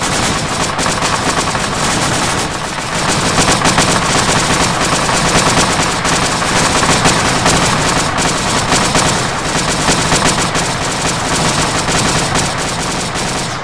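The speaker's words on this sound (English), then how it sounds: "Laying down suppressive fire in the woods to the south." M60 machine gun laying down sustained suppressive fire in ArmA, long loud continuous bursts of rapid automatic shots filling the whole span with barely a pause.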